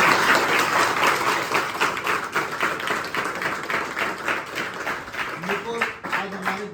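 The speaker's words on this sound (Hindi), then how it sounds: "तो एक बार जोरदार ताली यार भाई" Loud, dense audience applause for Chhattisgarh's first Air Force selected student, sustained throughout and tapering slightly, with a voice beginning to speak near the end.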